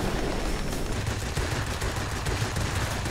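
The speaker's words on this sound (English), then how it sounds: "I am being shot at, though." Rapid, continuous gunfire from World of Warplanes aimed at the player's plane, a dense crackling barrage layered over a steady game noise bed with no talk.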